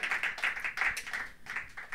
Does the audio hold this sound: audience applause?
yes